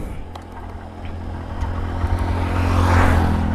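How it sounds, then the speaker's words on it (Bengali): A motorcycle engine idles in first gear, a steady low rumbling hum that gradually grows louder as the throttle is eased open. "দেখো ইঞ্জিনের আওয়াজটা একটু বাড়ছে"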